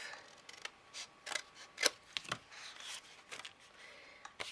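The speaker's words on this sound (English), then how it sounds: "Chop that card off." Scissors snip through a piece of card during a paper top hat craft, a series of crisp, close cutting clicks in irregular rhythm with no talk.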